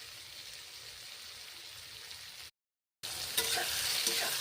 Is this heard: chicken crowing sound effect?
no